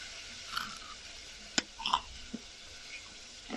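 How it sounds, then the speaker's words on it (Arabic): Crunching bites of crispy KFC-style fried chicken, a few sharp crackly crunches close to the mic over a quiet background, with no talking. "بصوا الصوت القرمشه، صوت القرمشه بتاعته واضح جدا جدا"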